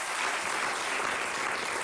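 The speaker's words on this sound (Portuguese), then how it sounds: "Um aplauso para os dois" Studio audience applause on a Portuguese afternoon TV talk show, a dense, steady wash of clapping held at even loudness throughout, with no voices over it.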